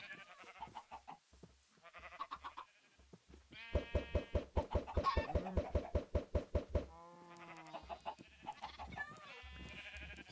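Blue sheep in a Minecraft-style survival game bleat repeatedly in a dense, buzzy, overlapping chorus, loud and close, with softer game noises and short muffled thuds around the calls.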